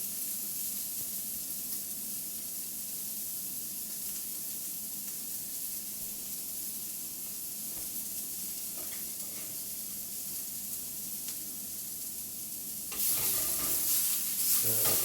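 Brussels sprouts sautéing over high heat in a pan, a steady close sizzle with occasional stirring scrapes, growing louder and brighter near the end.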